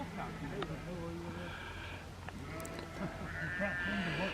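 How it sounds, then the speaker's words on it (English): Sheep on a rural walk near Dunsop Bridge bleat several times after one is freed from a fence, moderately close but fairly quiet calls over faint outdoor background. "It appears that we've got a sheep stuck in a fence."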